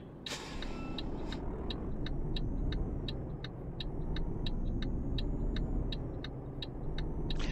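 A heavy truck in Euro Truck Simulator drives with a steady engine rumble and road noise, overlaid by a regular series of sharp clicking ticks like an indicator, continuous and without speech.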